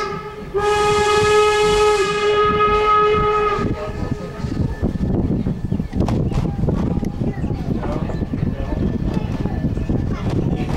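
A loud train horn on the Strasburg line between Strasburg and Paradise sounds a long harmonic blast for about three seconds, then the rumble and clatter of rolling rail cars continues close by.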